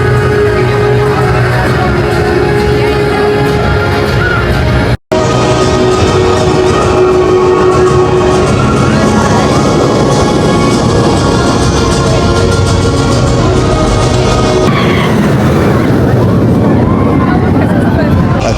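Hyperia, a Mack hyper coaster at Thorpe Park, roaring loudly throughout with rushing wind and rumbling track noise, a brief cut partway through, and riders' voices and shouting mixed into the din.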